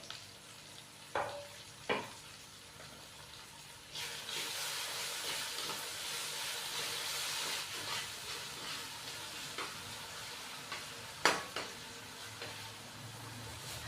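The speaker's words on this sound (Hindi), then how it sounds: "खड़े मसाले डालने के बाद मैंने हल्का सा इसको फ्राई कर दिया है।" Whole spices such as cinnamon pieces, black and green cardamom, black peppercorns and a bay leaf frying in a pot for chicken roast pulao, giving a steady soft sizzle with a few sharp stirring clicks and knocks.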